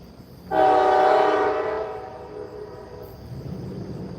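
A loud Norfolk Southern diesel locomotive horn blasts once at night in Dalton, Georgia, a sustained multi-tone chord that fades out, followed by a low rumble of the train.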